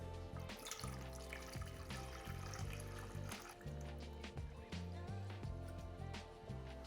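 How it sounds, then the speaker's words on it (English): Water, 800 milliliters, poured steadily into the reservoir of a drip coffee maker, a continuous close splashing, trickling stream that runs throughout. "Now it's easy as filling our maker with our 800 milliliters of water."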